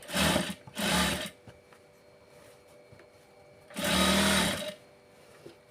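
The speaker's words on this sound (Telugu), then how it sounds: "ఇప్పుడు దీని మీద పైన ఒక కుట్టు అనేది వేసుకోండి." Sewing machine running in two short bursts and then a longer third burst while topstitching piping on a blouse, close and fairly loud, with quiet gaps between runs.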